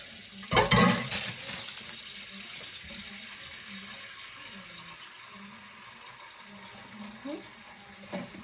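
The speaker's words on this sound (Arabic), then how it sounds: "غادي نسلق عليه الماء" Water running from a tap over lasagna being prepared in a home kitchen, a steady splashing flow that starts with a louder burst and continues moderately under faint background noise.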